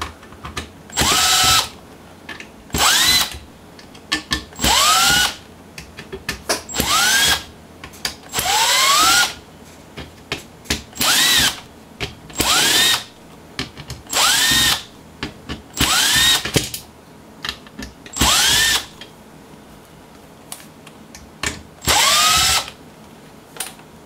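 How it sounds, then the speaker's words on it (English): Power driver removing screws from an N64 motherboard, whirring in short repeated bursts of about a second each with rising pitch sweeps and brief pauses between, close and loud. "So I think all I really need to do is remove all the main screws here."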